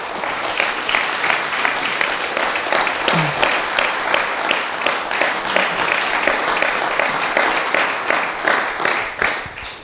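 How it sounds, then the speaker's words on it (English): A church congregation applauds steadily throughout, dense continuous clapping at even loudness from start to end with no talk over it. "let's give God a round of applause"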